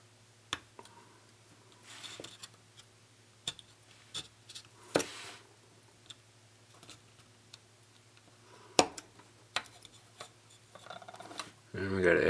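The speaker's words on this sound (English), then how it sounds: "And we got excess plastic mold right there. Trim that free." Sharp hobby knife or cutter snips and clicks trimming excess plastic mold from a model boxcar kit, scattered close-up ticks and scrapes over a faint steady hum.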